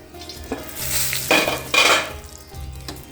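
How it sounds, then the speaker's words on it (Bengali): Banana and eggplant fry in a pan in a home kitchen, a soft sizzle broken by bursts of stirring and metal utensil scraping against the pan, close and without talk. "ওখানে কলা ভাজা, বেগুন ভাজা প্রায় হয়ে এসছে"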